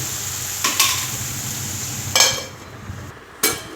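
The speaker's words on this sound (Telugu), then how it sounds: "ఇదిగోండి, ఇలా ఒక్కసారి కలుపుకొని ఒక 5 మినిట్స్ మగ్గించుకోవాలి మూత పెట్టుకొని" Ridge gourd curry is stirred in a pan, with three or four distinct scraping clatters of a spoon against the metal over a faint background hiss.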